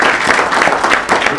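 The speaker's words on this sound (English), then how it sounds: "Let's give them a nice round of applause again." A crowd applauds legislators at a morning breakfast gathering, loud sustained clapping that swells slightly in bursts and fills the whole moment without speech over it.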